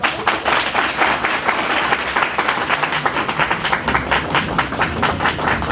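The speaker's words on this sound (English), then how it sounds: "Let's give a huge round of applause" An audience at a management lecture on adaptability and innovation breaks into a loud, sustained round of applause, many hands clapping together in a thick, continuous patter up close, with no one speaking over it.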